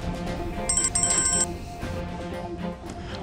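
A phone rings with a short electronic ringtone, two brief high chirping bursts heard over soft background music in a TV drama scene.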